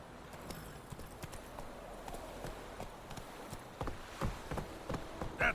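Roach, Geralt's horse in The Witcher 3, trots with hollow hoof clip-clops in a steady rhythm, fairly faint, getting a little louder toward the end.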